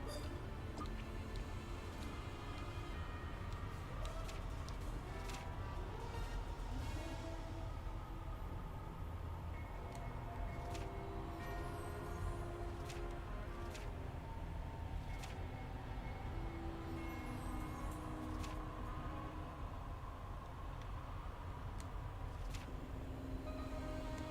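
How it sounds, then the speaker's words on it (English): In a video game a night train pulls in with a low, steady rumble of wheels and carriages, plus faint metallic clicks and squeaks over the top, held at an even, moderate level throughout. "Nazaria shows up to save the day on the night train"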